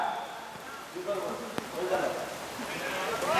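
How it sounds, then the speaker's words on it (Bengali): Steady rain falls continuously, a soft, even patter and hiss on surfaces with one sharp tap midway, moderately distant and unbroken throughout. "বৃষ্টি তো থামে না"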